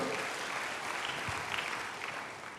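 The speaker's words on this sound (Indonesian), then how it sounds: "Yang mau berikan tepuk tangan bagi Tuhan" Brief congregation applause in a church service, a dense, even rush of many people clapping together at moderate loudness with no break.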